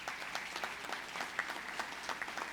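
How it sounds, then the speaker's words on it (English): A round of applause from the audience at a New York State Police Academy graduation ceremony, steady dense clapping of moderate loudness with no voices over it. "Let's give him a round of applause."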